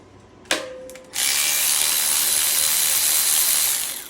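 A power tool runs on the bolts of a Jeep's Dana 30 front differential cover: a sharp click, then a loud, continuous high whirring buzz that holds steadily for about three seconds before easing off.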